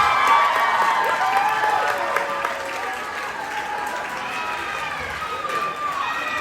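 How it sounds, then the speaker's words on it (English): A round of applause at an 18th birthday party: a crowd claps steadily for the full stretch, with cheers and voices mixed in, loudest at the start and easing slightly. "I think we all owe her a round of applause"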